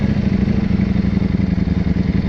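A brand-new motorcycle engine running steadily at a low, throbbing idle, its pulsing exhaust beat close and even throughout, with no talking.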